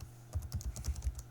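A short run of keystrokes taps a terminal command on a computer keyboard, giving about eight soft, close clicks in quick succession with no speech.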